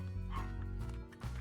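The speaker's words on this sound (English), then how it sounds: "You're barking, which is why you're staying out there." A dog barks in a video game, a couple of short yips close up over a sustained background tone.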